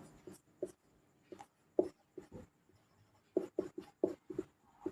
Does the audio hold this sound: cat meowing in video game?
no